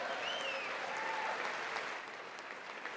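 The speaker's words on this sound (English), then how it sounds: "And the other side stands and applauds." Applause from a standing audience at a State of the Union address fills the room as a dense, steady wash of clapping, slightly distant, easing off a little toward the end.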